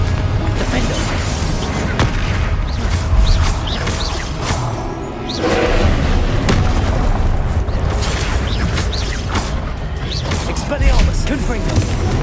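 Confringo blasting spells in Hogwarts Legacy burst again and again in a dense stream of loud booms and crashes, with no pause between them and a busy, steady game soundscape underneath.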